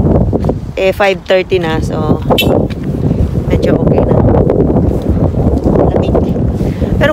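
Gusty night wind in Calgary buffets the microphone with low rumbling noise, while a person talks briefly at the start.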